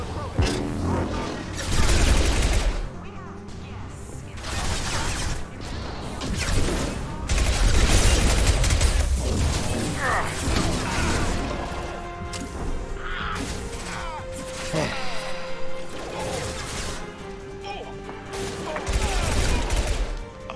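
Pistol fire rattles through a firefight in Mass Effect 2, with repeated bursts of shots mixed with crashes and impacts, rising and falling in waves over a game soundtrack.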